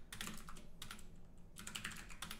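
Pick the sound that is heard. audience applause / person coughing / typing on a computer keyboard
typing on a computer keyboard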